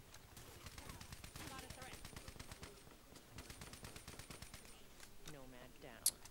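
Rapid automatic gunfire in Call of Duty Black Ops 3, dense bursts of shots in quick succession, with brief pauses and a sharp final crack; someone talks over it.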